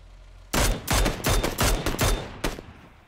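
Gunfire in the PUBG video game: several loud, close bursts of rapid automatic shots in quick succession, each cracking sharply, followed by a single trailing shot after a short pause.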